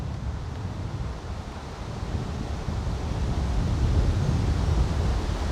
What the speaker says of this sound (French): avec en plus maintenant le vent qui se lève